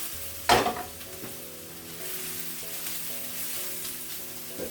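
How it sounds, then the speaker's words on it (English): Carrots and onions drop into warmed oil in a pan with a loud initial burst, then settle into a steady, close sizzle that runs on alone with no talking. "once your oil is warmed through, straight in there. Onions and carrots. Carrots first, they take longer."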